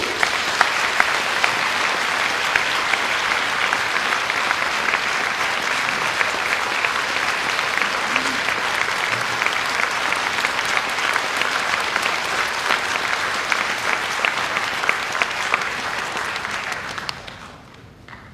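Warm audience applause welcoming writer Chen Danqing to a Singapore lecture hall, sustained and even for about seventeen seconds before tapering off abruptly at the end, with no voices over it.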